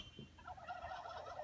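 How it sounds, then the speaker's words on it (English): A turkey gobbles in a warbling, rapid rattle that fills most of the moment, fairly close and clear, with no talk over it. "A turkey."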